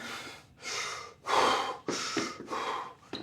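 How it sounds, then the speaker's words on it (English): Several deep, forceful breaths taken in quick succession before a barbell shoulder press, close and loud, each inhale or exhale separated by short pauses. "Get your breaths in."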